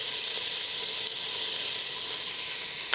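Chopped onion frying in a hot pan, an even, bright sizzling hiss that holds steady throughout with faint crackles and no talking.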